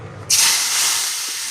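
Cut cucumber pieces hit a hot frying pan with a sudden loud hiss that settles into a steady sizzle, close by.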